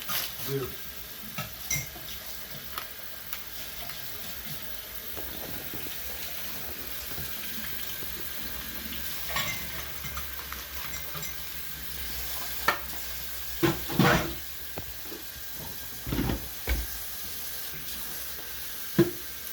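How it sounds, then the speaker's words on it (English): Tomato and blackberry jam stirred in a pot gives a soft bubbling backdrop marked by irregular spoon scrapes and clinks, some louder bursts toward the end, with no clear talk. "I'm going to start stirring."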